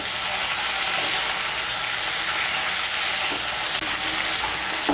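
Ginger and green chili paste stirred into potatoes and flat beans in a hot pan, a continuous loud sizzle with occasional spatula scrapes and light knocks, no talking.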